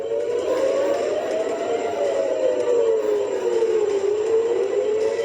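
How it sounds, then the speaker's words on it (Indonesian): A civil defense warning siren in Israel during an Iranian missile attack rises and falls slowly in a steady, continuous wail, heard from a distance with a broad background hum. "Sirine peringatan berbunyi di berbagai wilayah termasuk di kawasan pelabuhan utama di Haifa."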